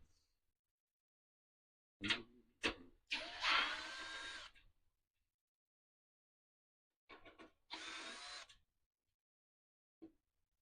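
Power tool driver whirring in short bursts while removing hex screws from a driver, with two quick pulses then a longer run, and a second longer run after a pause, close and fairly loud.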